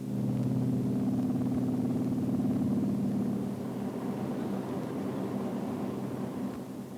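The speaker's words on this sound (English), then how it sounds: "The plane circles over Port-au-Prince, capital of the second oldest independent nation in the Western Hemisphere" A Pan American clipper airplane circling overhead above Port-au-Prince, Haiti, its engines a steady, loud droning hum that holds firm, then eases slightly lower partway through, with no talking.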